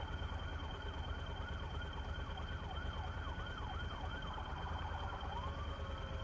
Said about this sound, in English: So we had an ambulance and a fire truck go by